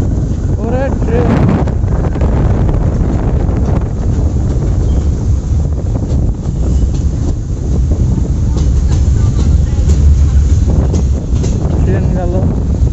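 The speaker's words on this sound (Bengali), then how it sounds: "সামনে দিয়ে আবার ট্রেন যায়" A train passes on a road trip between Pabna and Rajshahi, a continuous loud rumble and clatter heavily buffeted by wind noise, with a voice talking over it.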